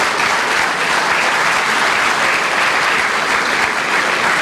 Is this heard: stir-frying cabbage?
no